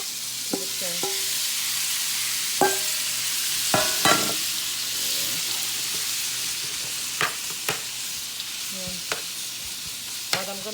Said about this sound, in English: I'm just gonna add my steak to the pan